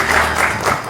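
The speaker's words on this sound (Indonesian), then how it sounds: "Kita berikan tepuk tangan untuk Pak Ugro Seno, luar biasa." A studio audience at a talk show gives a short burst of applause, a dense, fairly loud clatter of many hands lasting about a second.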